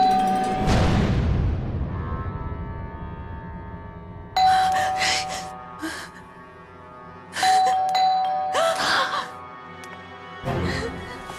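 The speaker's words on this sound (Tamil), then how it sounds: "தேவையில்லாம காலிங் பெல் அடிச்சுட்டே இருந்தேன்." A doorbell in a Tamil horror TV serial chimes ding-dong three separate times with pauses between, each ring clear and close, each tone fading after it sounds, with no talking over it.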